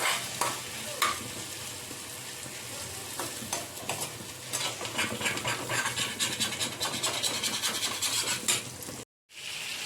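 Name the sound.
potatoes and tomatoes frying in a pan, stirred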